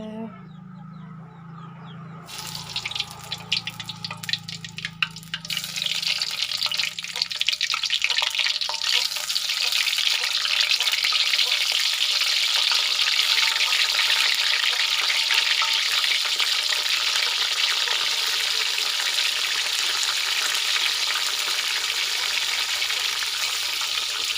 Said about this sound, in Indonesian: Ini minyaknya udah panas ya, kita celupkan tempenya aja.